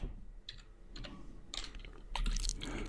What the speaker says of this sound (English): then I type in the word style